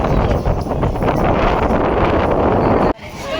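Strong wind buffets the microphone on a misty hilltop, a loud, continuous roaring rush that drops suddenly near the end.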